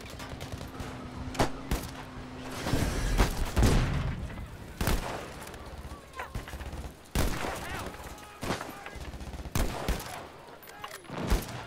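Gunfire in the Battlefield V video game, with scattered sharp rifle shots and short bursts echoing through a multiplayer battle, some near and loud, others more distant, over rumbling background noise.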